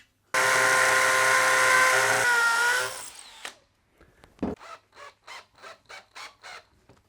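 A power drill whines loudly and steadily for a couple of seconds, winds down, then gives a row of short, rhythmic bursts, drilling into a wall during a DIY home cinema room build.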